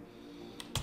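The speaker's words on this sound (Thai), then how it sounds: "กดตัว G บนคีย์บอร์ดนะครับ" G key pressed on a computer keyboard, giving a couple of quick, close plastic clicks at the very end after near-silence.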